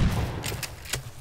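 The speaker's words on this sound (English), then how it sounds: "You're hearing gunshots." A few sharp gunshots in the video game Rust crack in quick succession, loud and close, over a low rumbling background.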